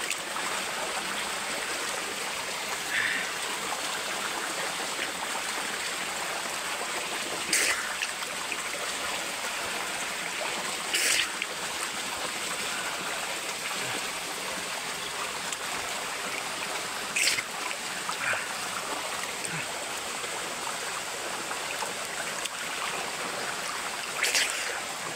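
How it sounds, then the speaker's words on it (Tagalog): A waterfall pours down somewhere outdoors with clean, cold water, making a steady, loud, full rushing roar that holds without a break throughout, with a few faint, brief knocks on top. "Busay ito siya guys, busay."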